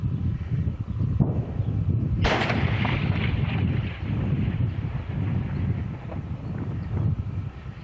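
Artillery firing in a war zone: a single heavy, booming discharge lands loud and close partway through, its rumble trailing off over steady wind buffeting the microphone.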